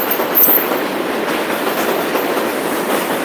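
Train passing close by in New York, a loud steady rush of rolling wheels with rhythmic clickety-clack throughout a few seconds, no voices over it.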